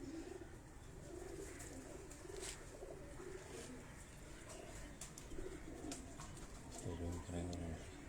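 Pigeons kept by a breeder coo softly in repeated low phrases, with a stronger burst of cooing near the end and faint chirps and rustling around them; a voice may be present in the background.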